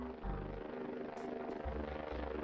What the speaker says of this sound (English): It's a drone.